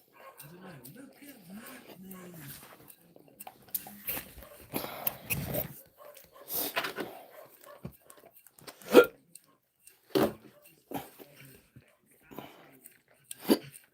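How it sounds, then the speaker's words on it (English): Hiccups from a person indoors with a dog nearby, several short sharp isolated hiccups spaced a few seconds apart, mixed with quiet talk and occasional dog sounds. "Oh, I got hiccups."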